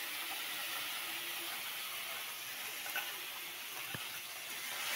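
Spices fry in a pan with a steady, fairly quiet sizzle and hiss and a few faint clinks, with no talk.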